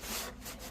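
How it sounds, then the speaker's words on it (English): Hand sanding wood filler on wooden stairs gives a close, dry rasping rub, one long stroke followed by a shorter one. "I'm going to keep rubbing and seeing if just rubbing it will make that line disappear and make it flush."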